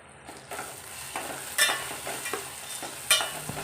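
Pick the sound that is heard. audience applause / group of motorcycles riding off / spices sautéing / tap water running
spices sautéing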